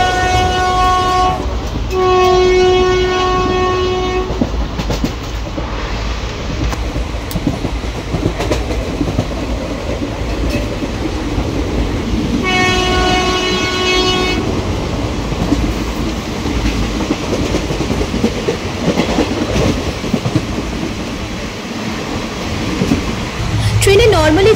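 The Maldah Town–Howrah Intercity Express rumbles steadily along the rails, heard from inside the coach. Two long horn blasts sound over the running noise, one early and one midway, with faint voices in the background.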